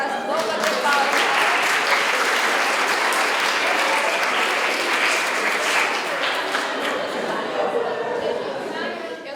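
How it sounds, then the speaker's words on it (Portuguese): An audience claps steadily after a children's storytelling session at a school, a dense, sustained round of applause with some murmuring voices mixed in, fading slightly toward the end. "Vamos bater palmas."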